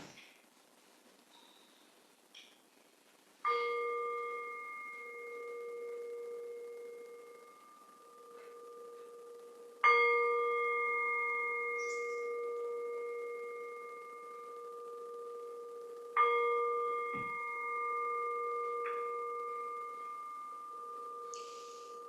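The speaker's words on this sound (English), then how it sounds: "we will begin our sacred time together by ringing our chime" A chime is struck three times at the opening of a religious service, several seconds apart, each strike ringing out with a clear, sustained tone that slowly fades in a quiet room.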